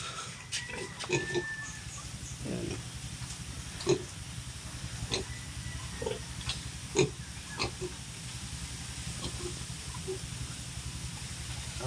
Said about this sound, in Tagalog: baboy nyo oh.